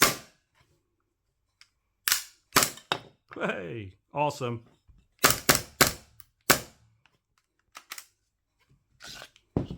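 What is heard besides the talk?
Acetech Drumfire gas-powered airsoft sound unit firing during function test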